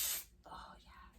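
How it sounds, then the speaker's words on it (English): A short burst of aerosol hair spray hisses loudly at the start, followed by a quiet breathy exhale or whisper. "let's spray a little in just for funsies"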